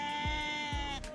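A dumba sheep bleats twice at a busy livestock market, two short rising calls standing out close by over a steady background hum.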